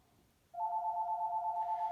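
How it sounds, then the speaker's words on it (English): A telephone starts ringing abruptly with a steady electronic warbling tone that holds at moderate volume over a quiet room, with no talking. "and there goes the phone."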